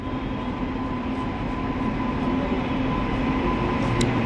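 An Uttarbanga Express hauled by a WAP7 electric locomotive rumbles past in a steady, loud roar with a sustained tonal hum, ending in a brief high squeal.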